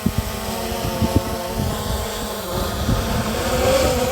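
A Hubsan Zino 2 drone flies low over a field with a steady, insect-like buzzing whine from its motors and rotors. It stays loud and continuous throughout, with small bumps of wind and handling noise.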